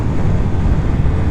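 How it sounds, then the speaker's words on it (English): Exhaust roar from a Triumph Speed Triple 1200 RS, its triple-cylinder engine giving a loud, steady low rumble mixed with wind rush during a short riding stretch. "the roar you get out of the exhaust is that familiar Triumph triple"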